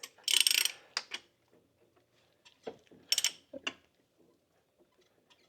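An Infiniti engine's crankshaft turned by hand during a rebuild with the rod cap off, giving sparse close metallic clicks and scraping clunks with quiet gaps between them.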